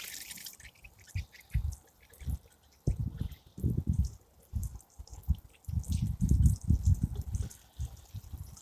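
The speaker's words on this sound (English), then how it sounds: "So I'm just going to give them a water now." Water splashing from a can onto potted strawberry plants, irregular bursts of pouring and dripping that grow heavier and more continuous toward the end, close by.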